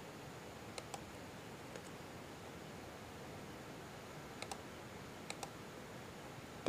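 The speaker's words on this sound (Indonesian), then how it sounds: "Kita ketikkan nominalnya di kolom amount." Typing an amount into a column on a computer keyboard, faint, sparse key clicks in small clusters over a steady background hiss.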